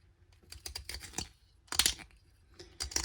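A Juzek violin peg shaper shaves a wooden peg in short bursts of dry scraping and clicking, close and fairly quiet, separated by brief pauses.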